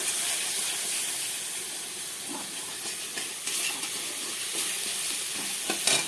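Vegetables seasoned with turmeric and salt are stirred in a pan in a village kitchen, giving a steady soft sizzling hiss with faint scraping strokes throughout, close and continuous.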